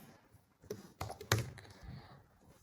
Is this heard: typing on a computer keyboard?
yes